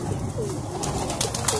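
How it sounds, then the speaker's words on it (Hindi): Teddy pigeons coo softly at a pigeon club, low throaty calls rising and falling over a steady background hum, with faint fluttering and rustling near the end. "ये देखें माशाल्लाह कैसे कैसे कबूतर हैं"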